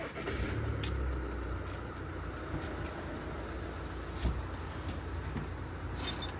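A car engine runs quietly after being started, a faint steady hum under light background noise with one brief click partway through.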